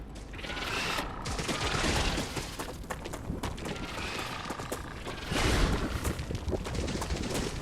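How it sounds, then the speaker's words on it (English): Weapon magazine swapped in StarRupture, a run of clicking, ratcheting mechanical clacks over a busy game backdrop, close and fairly loud with irregular rhythm. "Changing mags."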